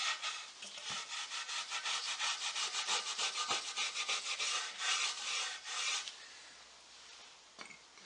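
Steady back-and-forth rubbing as Restor-a-Finish is worked into wooden furniture by hand, a rhythmic scrubbing of even strokes that fades to quieter, sparse touches near the end.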